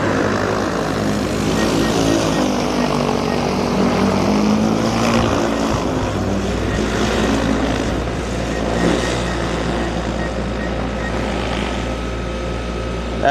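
A T100 spray drone lifting off over a greenhouse, its rotors a loud, steady propeller drone with a constant hum that holds unbroken and close throughout.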